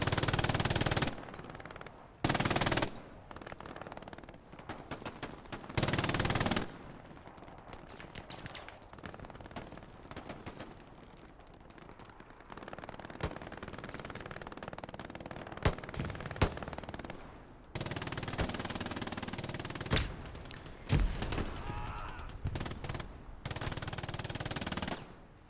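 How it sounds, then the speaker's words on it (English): Rapid MG42 machine gun bursts in a Battle of the Bulge shooter game set at Elsenborn Ridge, loud, repeated strings of fire with brief pauses between volleys, sustained through the whole stretch. "MG42 to the right from Big Jack."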